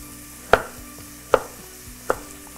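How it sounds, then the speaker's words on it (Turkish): Three separate sharp knife chops through carrots on a cutting board, evenly spaced and close, over a quiet kitchen background with no talking. "Şöyle daha kolay doğranacak."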